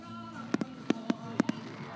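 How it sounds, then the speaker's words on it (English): Fireworks burst behind a high school football field after an evening game, six sharp cracking pops in quick pairs against a steady crowd murmur, moderately close and loud. "you got the fireworks going off behind us"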